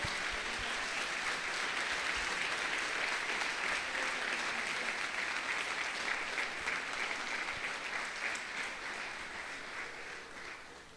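A church congregation at a Sunday service applauds in a sustained, even roar of many hands clapping, heard from a moderate distance and gradually fading toward the end.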